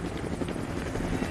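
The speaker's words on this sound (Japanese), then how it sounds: "ヘリ、やばいよ。" Helicopter in the video game Far Cry 6, a close, steady thudding rotor drone filling the whole short stretch with no voices.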